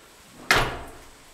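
A newly installed interior door swings shut with a single sharp thud, close by in a quiet room, then fades out.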